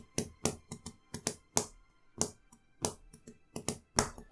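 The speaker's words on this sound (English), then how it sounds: "if you're wondering what that tapping is, that's my pen" A pen taps against a desk in quick, uneven clusters of sharp clicks, about a dozen close-up ticks with short gaps between bursts, alone and fairly quiet.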